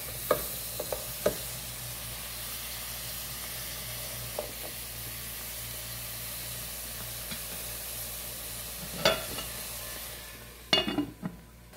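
Vegetables for noodles being stirred and cooked in a pan, a soft continuous sizzle with scattered scrapes and taps of a utensil, louder clattering near the end, close up and without talk.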